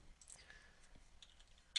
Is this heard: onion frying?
no